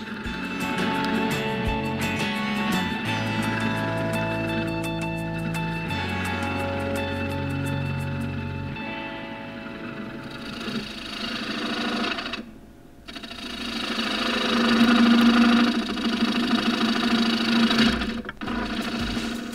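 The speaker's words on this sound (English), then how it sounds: "I go back to my half-inch bowl gouge to do a couple finishing cuts." A wood lathe spins a poplar bowl while a half-inch bowl gouge makes finishing cuts inside it, giving a steady humming drone that briefly drops out twice near the end.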